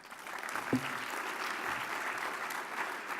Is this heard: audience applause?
yes